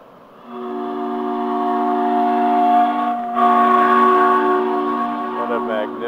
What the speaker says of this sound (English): What a magnificent train.